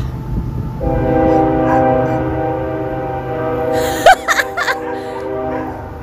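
A train horn sounds loud and sustained for several seconds, harmonically rich, with a few sharp clanks and bursts near the end.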